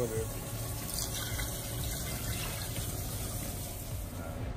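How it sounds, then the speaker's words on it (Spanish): Water poured into a pot of stewed pork feet with wine and seasonings, a steady continuous wash of running liquid filling the pot, with a person talking over it throughout. "Vamos a echarle agua hasta ponerlo a nada."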